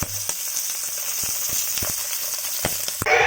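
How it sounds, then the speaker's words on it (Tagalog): Fish frying in a pan (piniritong isda) crackles and sizzles with a steady hiss, dotted with small pops and spits, and a sharper burst of crackling near the end. "So ilalagay na natin ang isda sa kawali guys."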